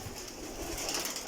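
Pigeons coo softly in a loft among fancy breeds such as French pigeons, a low murmuring of calls over a faint airy background.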